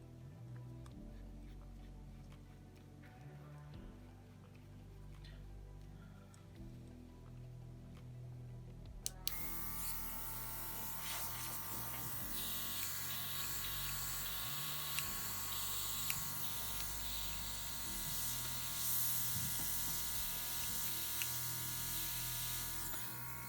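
A small motor in a rechargeable wireless airbrush whirs steadily, then a soft hissing spray kicks in about halfway and keeps going, fairly quiet and close.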